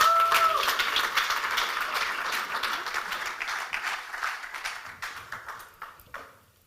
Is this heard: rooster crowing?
no